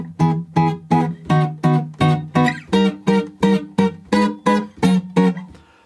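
Guitar strumming the chorus of a song, a dozen or so evenly spaced, loud strummed chords in a steady rhythm with no voice over them.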